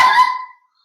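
One short, sharp dog bark, nasal and honking in tone, that quickly fades into silence.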